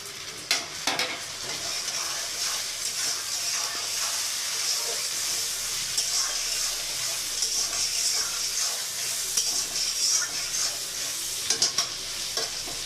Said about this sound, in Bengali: টমেটো আর পেঁয়াজ কুচিটা একটু ভাজা ভাজা হোক